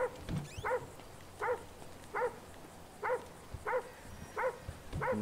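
A dog in a roleplay video game barks in a regular series of about seven evenly spaced, mid-distance barks over quiet background noise.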